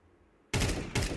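Gunfire in Counter-Strike: Global Offensive: after half a second of quiet, a loud sustained burst of shots erupts, briefly dips, then resumes, close and alone without talk.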